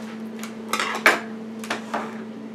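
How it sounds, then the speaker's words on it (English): Metal pans knocking and clattering as one is pulled out in a home kitchen, a handful of sharp close clanks spread over a couple of seconds, the loudest near the middle. "I'm going to go ahead and get our pan out right here."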